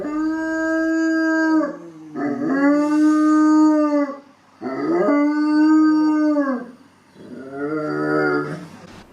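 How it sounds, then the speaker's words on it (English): Dogs on Athens rooftops howl in long, drawn-out wails, four sustained howls rising and falling with short breaks between, loud and close with no talk. "It's a lonely howl, as if they're saying, is there anybody out there?"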